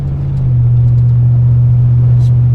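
A Chevy 454 big-block in an OBS tow truck with an X-pipe exhaust gives a loud, steady low drone while cruising, heard from inside the cab, without crackle and with no talk over it.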